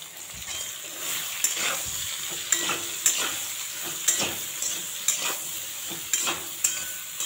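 Ridge gourd frying in a pan with whole cumin and five-spice seeds gives a steady, close sizzle, broken by a string of sharp clinks and scrapes from stirring at irregular intervals.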